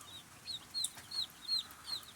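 Soft, high-pitched peeping calls from young chicks repeat in a quick series of about six chirps over a quiet background.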